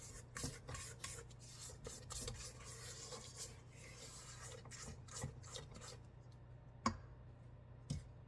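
A spatula scrapes down spice cake batter in a mixing bowl, a quiet run of rasping, rubbing strokes in quick succession, then a couple of sharper single scrapes near the end.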